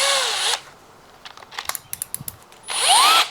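Electric drill spinning a roll of 400 grit sandpaper at medium to high speed in a tub, heard as two loud whirring bursts that rise and fall in pitch, with faint clicking and handling in between.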